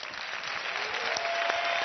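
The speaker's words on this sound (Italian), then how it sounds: "facciamo un applauso a tutti gli autori di questo programma" Studio audience applause for the writers of an Italian comedy television show, a dense, steady roar of clapping that swells slightly toward the end.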